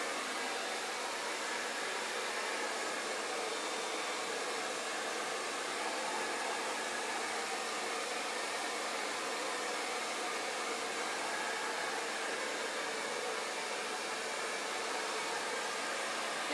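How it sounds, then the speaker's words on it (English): A hair dryer runs steadily, drying a model's hair in a salon styling session, its even airflow hiss constant and uninterrupted, close and alone with no talk. "Now when I'm drying"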